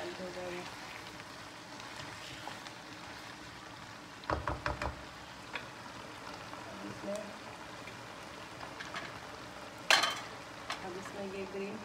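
Spinach greens mixture being stirred in a cooking pan, soft scraping and a few sharp knocks of the spoon against the pan over a quiet sizzle, with occasional clatters.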